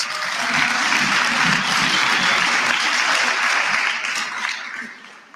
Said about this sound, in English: Once more, give yourself a round of applause for that.